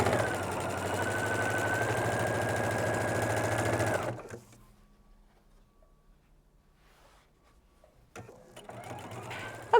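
A sewing machine runs steadily for about four seconds, joining a 2-inch fabric strip to a 10.5-inch background fabric strip for a quilt row. Near and loud, it stops abruptly and near-silence follows.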